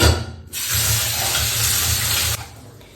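Tap water runs into a curd dish to soak it, a steady close splashing hiss that starts abruptly and stops just as suddenly after about two seconds.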